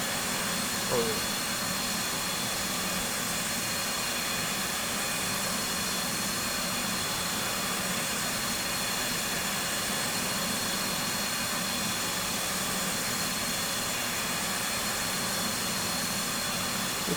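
An aircraft's left engine runs in a bomber flight video game, giving a steady, even jet-like roar and hiss that holds unchanged throughout, with no talk over it.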